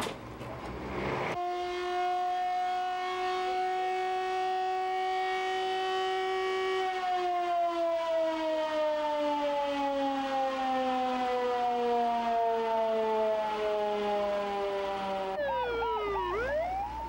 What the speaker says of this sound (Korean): 일단 소방차와 구급차가 출동을 했습니다